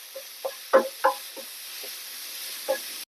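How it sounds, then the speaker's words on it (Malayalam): A spoon stirs an onion, coconut and turmeric mixture in a pan: several irregular scraping strokes, a couple of them sharper and louder, sit over a faint, steady sizzle. "ഇനി എല്ലാം കൂടി നല്ലോണം ഇളക്കി യോജിപ്പിക്കാം"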